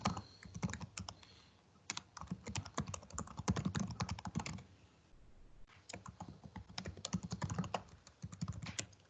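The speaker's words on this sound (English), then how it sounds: "the most difficult task of any implementation is typing your password correctly." Someone types a password on a computer keyboard during a Windows Virtual Desktop demonstration, with rapid bursts of close, crisp key clicks broken by a brief pause midway and no talking.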